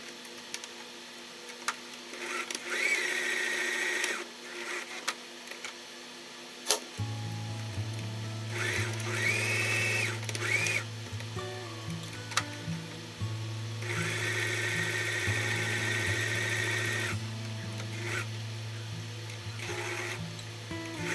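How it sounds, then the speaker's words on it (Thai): A sewing machine stitches around the edge of a round fabric drawstring makeup bag, running in steady bursts with short pauses between, close and clear with no talking. "โดยเราจะเย็บรอบชิ้นงานเลยนะคะ"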